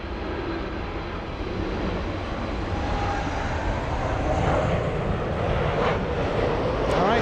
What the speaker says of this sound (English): 747 crossing in distance